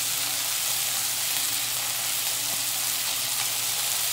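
Onion frying in a pan gives a steady, close hiss and sizzle that holds evenly throughout.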